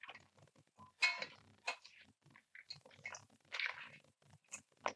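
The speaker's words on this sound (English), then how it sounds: "Hear the crunch of the wings?" Crispy Hennessy barbecue chicken wings crunching, with a handful of sharp crackly bursts that come close together and are heard on their own, without any talking over them.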